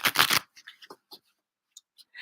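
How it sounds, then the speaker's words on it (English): A brand new deck of playing cards is riffle-shuffled close up, a crisp rapid flutter burst followed by scattered taps and snaps as the cards are squared and bridged, with pauses between. "Do a little shuffling. We want to get it good and shuffle because this is a brand new deck."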